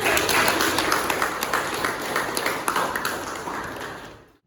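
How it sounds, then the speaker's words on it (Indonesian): Classmates in a classroom give a student a short round of applause, a dense patter of claps at close range that fades away at the end. "Terima kasih, beri tepuk tangan."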